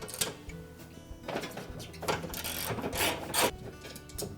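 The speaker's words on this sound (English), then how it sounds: "So using our 1/2" socket, we'll remove all 3 of those bolts." Hand ratchet with a 1/2 inch socket loosening the transmission bolts on a Whirlpool washer, rapid clicking pawl bursts repeating close by over a few seconds, with light metallic handling in between.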